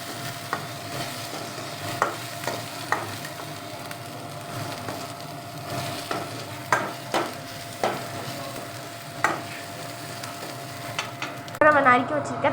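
Ginger-garlic paste sizzles steadily in a hot pan while a utensil scrapes and taps against it at irregular intervals.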